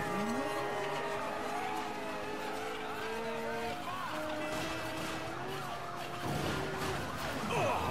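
Police sirens wail during a car chase in the video game Mafia 3, several overlapping rising and falling tones running loud and continuous throughout, with engine noise beneath.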